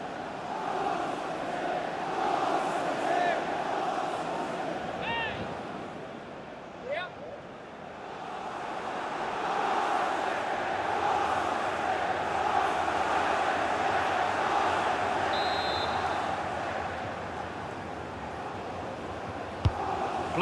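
A stadium crowd roars steadily throughout a football video game match, a broad continuous wash of noise with a commentator talking over it at moderate level.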